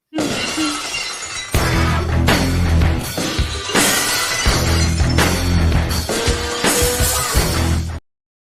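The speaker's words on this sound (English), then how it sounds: "They're breaking glass everywhere." Glass shatters in a run of loud, close crashes, about six bursts of breaking and tinkling shards following one another with barely a pause over roughly seven seconds before the sound cuts off.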